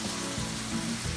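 Steak and shrimp fajitas sizzling and frying in a pan, a steady close hiss with faint stirring, no talking.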